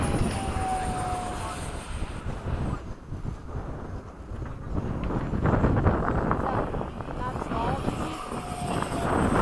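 An FMS 70mm F/A-18 RC model jet passes overhead with a whooshing ducted-fan roar, its pitch whining in and out amid gusty wind noise, while people talk nearby.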